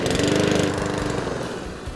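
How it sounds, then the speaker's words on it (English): A running M41C lawn mower engine just started by pull cord, its loud, close, rapid chugging putter holding steady and easing slightly toward the end. "we pull the cord and it will start"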